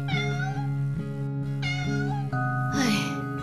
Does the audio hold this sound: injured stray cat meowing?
yes